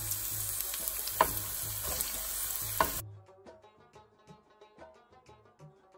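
Garlic sizzles steadily in hot oil, loud at first and then quieter and crackly, with a few stirring scrapes.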